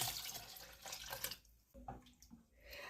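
Water pours from a tap into a soup pot, a quiet splashing stream that breaks off and resumes with a few drips and faint clinks near the end.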